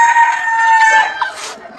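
A rooster crows loudly and close up inside a coop shared with a young hen, one long continuous call filling the whole stretch with no talk.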